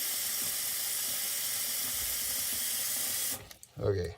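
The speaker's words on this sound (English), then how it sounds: "I'm going to put the stop down and get some water in there" Cold tap water runs into a stoppered sink as a steady loud rushing hiss, then cuts off and leaves brief sloshing and handling noises.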